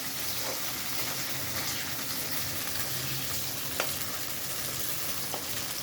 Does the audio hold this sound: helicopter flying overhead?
no